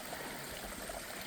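A small waterfall on the Appalachian Trail pours steadily, a soft continuous rush of flowing stream water heard faintly and alone.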